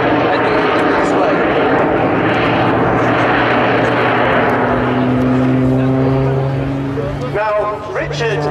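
A jet-powered Pitts S2S aerobatic biplane flying its display at the Sanicole airshow in Belgium, a loud sustained engine roar with shifting tones as it passes, under continuous commentary over the loudspeakers.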